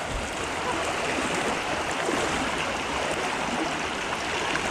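Cold, roughly knee-deep stream crossed on foot, a constant broad rushing and gurgling of flowing current close by, steady throughout with no talk.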